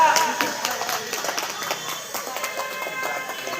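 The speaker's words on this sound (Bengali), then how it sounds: "এর জন্য একটা হাততালি হয়ে যাক" Applause at a blood donation camp gathering, many hands clapping in an irregular crowd patter that starts loudest and settles to a steady moderate level.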